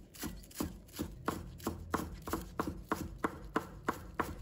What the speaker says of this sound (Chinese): 葱叶切成葱花。